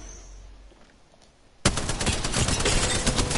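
Gunfire in a shooter video game, a sudden burst of rapid automatic shots that starts after a quiet stretch and continues loud and dense.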